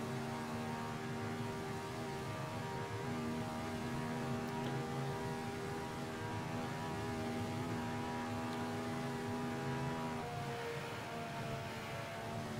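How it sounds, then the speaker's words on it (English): Ferrari engine in Assetto Corsa from the 70th Anniversary DLC, a damaged car limping in top gear, giving a steady, faint droning hum with a tonal shift as the throttle lifts. "that throttle off sound"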